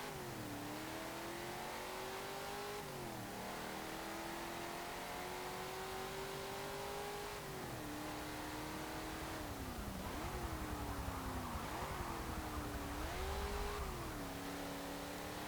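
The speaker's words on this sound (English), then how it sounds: "it's your typical sounding Hemi V8 from the period" A deep Hemi V8 engine in a 1970 Dodge Coronet Super Bee in Forza Motorsport 7 revs up and down repeatedly, pitch rising and falling in smooth sweeps, loud and close with a constant growling rumble.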